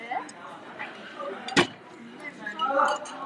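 A single sharp clink of ice cubes against a glass, heard once in the middle over faint room noise and murmuring voices during a live stream.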